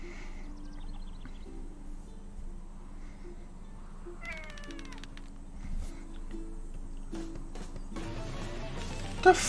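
Cat meowing in the video game Full Metal Furies, several drawn-out meows and caterwauls rising and falling in pitch over a steady game soundtrack, with a brief sharp effect at the end.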